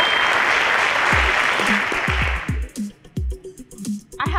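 A quiz show audience at a school championship breaks into loud, dense applause that holds steady for about two and a half seconds, then thins into scattered claps and fades out.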